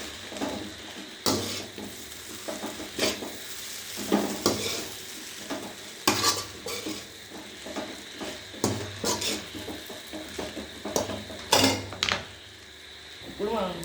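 Egg noodles being tossed with tomato sauce in a hot pan: a soft sizzle underneath as a metal spatula scrapes and clinks against the pan in irregular strokes, close up, with brief talk in between.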